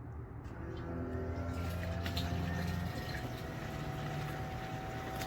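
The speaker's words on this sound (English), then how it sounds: "go ahead and hit the fuel pump" A fuel pump runs on a 440 Plymouth Duster being prepared for its first startup, giving a steady, continuous mechanical hum that stays level and moderately loud throughout with no talk over it.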